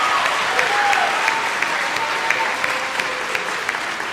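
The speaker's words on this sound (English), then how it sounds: "So a big round of applause for being here for an Awards of Distinction show." A crowd applauds at an awards show for kids' art, with dense, bright clapping that carries steadily through the whole span and no pause or talk.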